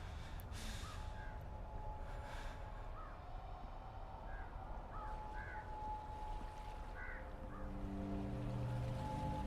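Ambient birds in the video game Karma give short, sparse calls and caws somewhere in the distance, faint over a low, constant droning background with a hum that swells slightly near the end.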